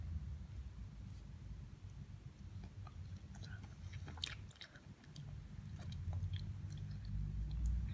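Someone eating a Cornetto Brigadeiro ice cream cone, with close, soft, steady chewing and crunching of the cone, faint and continuous with no talking.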